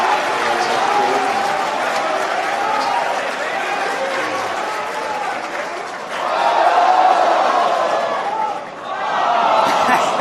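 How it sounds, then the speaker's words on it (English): A large crowd cheers and claps continuously as a SpaceX rocket first stage comes in to land on a drone ship, swelling louder midway, with a dense roar of voices and no single speaker standing out. "you're hearing everyone cheer right now because it's coming into the drone ship"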